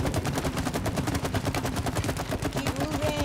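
Rapid, evenly spaced bursts of automatic gunfire from the video game It Takes Two, loud and continuous through the short stretch, with a brief rising electronic tone near the end.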